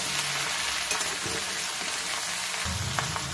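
Onion sizzles and crackles as it fries in a pan for a bottle gourd curry cooked with a fish head, with a dense continuous hiss and occasional stirring scrapes, close by and without speech.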